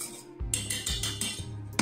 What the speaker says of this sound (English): You want to stir.